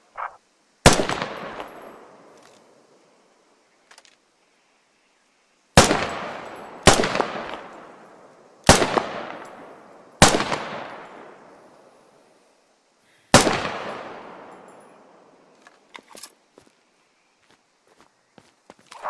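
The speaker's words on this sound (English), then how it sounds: "Designated marksmen are issued with a high-caliber rifle designed to reach out and touch the enemy from further ranges than a standard issue rifle." Designated marksman rifle firing in the Squad video game training course: six loud, sharp single shots spaced a second or more apart, each with a long decaying echo, and faint clicks between.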